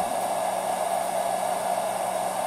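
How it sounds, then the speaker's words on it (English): A smart battery charger's cooling fan blows with a loud, steady rushing hum, close and constant with no other sounds over it. "I didn't realize how loud that fan was on that battery charger. It's pretty loud."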